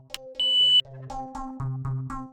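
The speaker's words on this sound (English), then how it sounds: "Press the program button on the receiver to pair the devices." A wireless doorbell extender receiver, plugged into an outlet, gives one clear, bright electronic beep lasting under half a second during pairing, with a steady tonal background underneath.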